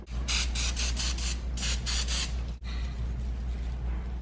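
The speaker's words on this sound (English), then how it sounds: "a really light spray of oil and a dust of salt" Several quick hissing bursts of an oil spray bottle over beets in two clusters, close and sharp, followed by a quieter steady background.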